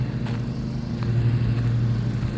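A grass-mowing machine drives off in a village, its engine giving a steady low drone that stays fairly loud, with a few faint knocks over it.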